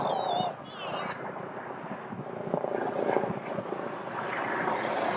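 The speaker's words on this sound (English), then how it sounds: "Look, there's a helicopter up there." A low, steady helicopter rotor drone hangs in the background overhead under wind and people chatting nearby, outdoors in Vancouver, British Columbia.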